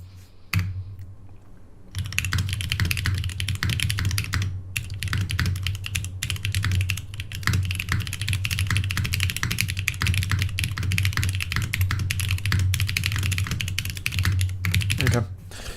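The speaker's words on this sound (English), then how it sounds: "That was kind of fucking clean typing." Fast typing on a computer keyboard, a dense, continuous clatter of close key presses after a brief quiet start, with a low hum underneath.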